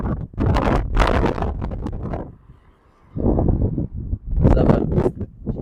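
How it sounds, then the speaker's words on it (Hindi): Strong wind buffets the microphone in loud, gusty roars, dropping briefly to a quiet lull before rushing back in. "ये देखिए क्या जबरदस्त हवा चल रही है"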